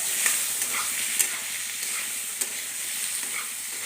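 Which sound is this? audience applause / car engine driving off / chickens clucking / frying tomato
frying tomato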